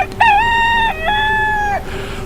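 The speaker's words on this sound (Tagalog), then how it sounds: "Kasabay ng pagtilaok ng manok" A rooster crows loudly and close by in two drawn-out, tonal phrases, alone with no talking.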